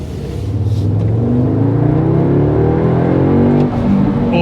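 An Audi RS model accelerates nearby, its engine note climbing steadily in a loud, continuous drone that rises in pitch over several seconds without pause.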